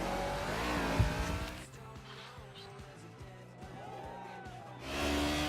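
A racing car in Project CARS drives a circuit and takes a jump, with engine revs rising and falling, tire squeal and skids, and a loud burst at the start and end, while someone talks over the action.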